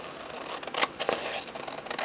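Scissors cutting out paper for a junk journal: a few quiet, close snips in quick succession over a soft background hiss.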